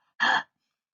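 A person imitates a fearful dog's huffing, letting out one short, breathy huff of about a quarter second that is close and fairly soft, with silence around it.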